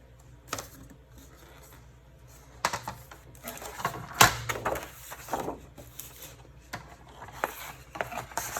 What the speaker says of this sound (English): Let's cut off a 6-inch piece of that.